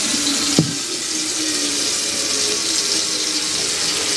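Tap water pours steadily into a large aluminum bowl in a kitchen, a loud, continuous gushing rush after a brief knock near the start, with no talk.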